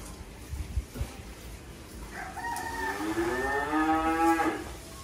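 A shaved Limousin calf moos once, a long drawn-out, rising call up close, after a few seconds of quiet farmyard background.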